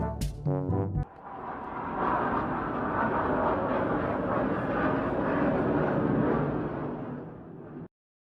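A jet airplane roars overhead, a loud sustained rumbling whoosh that swells and holds for several seconds before cutting off abruptly.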